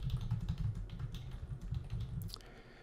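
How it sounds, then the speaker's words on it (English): Quiet, rapid typing on a computer keyboard, a continuous patter of close key clicks for a few seconds, alone without talk. "let's type something over here."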